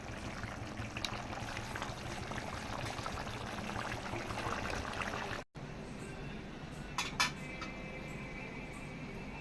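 A pot of thuthuvalai curry bubbles steadily with a soft continuous burbling hiss, close by; it cuts briefly, then quieter simmering resumes on low heat with a couple of faint clinks.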